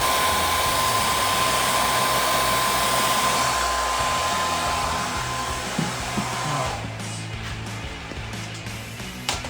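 A hair dryer or heat gun warms adhesive tape during a rear wing spoiler install on a 2016-2024 Camaro, giving a loud steady blowing whoosh that runs nearly ten seconds before easing slightly, close up with no talk.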